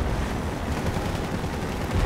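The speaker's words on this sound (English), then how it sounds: "So now we're dodging a bunch of bombs." Bombs going off in the video game Half-Life 2 MMod, a continuous dense rumble of heavy blasts and roaring noise, loud and unbroken throughout.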